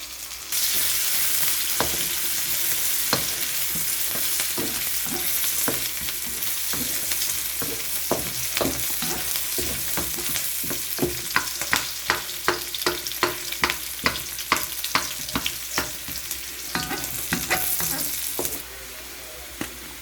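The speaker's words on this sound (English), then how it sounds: "Just let the onion caramelize." Onions caramelizing in a pan for a Sri Lankan prawn curry give a steady, close frying sizzle, broken by repeated sharp clicks and scrapes of stirring that come quicker toward the end.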